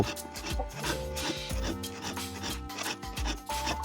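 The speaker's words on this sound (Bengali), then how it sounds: "সেই দাঁড়াগুলো ভালোভাবে ঘষে নেব" A file rasps back and forth across the teeth of a hand saw in quick repeated strokes, loud and close, with a ringing metallic tone from the blade under the scraping.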